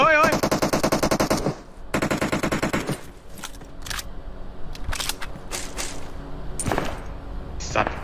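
Rapid automatic gunfire bursts in a video game, two dense sustained volleys up front followed by scattered sharp single shots and short bursts, loud and close with game ambience between.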